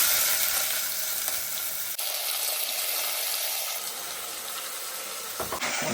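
Onions dropped into hot oil with cloves, fennel seeds, cinnamon and marselan buds, producing a loud, continuous close-up sizzle and crackle that holds steady throughout, with a brief clatter near the end.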